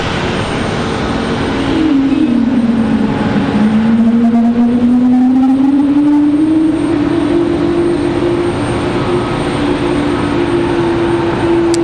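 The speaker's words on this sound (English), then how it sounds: "Cessna Citation X." A Cessna Citation X private jet arriving at Raleigh Durham airport on a stormy day, its engine tone rising and sliding steadily for about ten seconds, loud and close with no talk.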